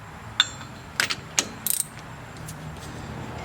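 Ratchet wrench loosening a 9/16 spindle nut on an HMMWV geared hub, giving a few quick metallic clicks in short bursts over a low steady hum, close and fairly quiet.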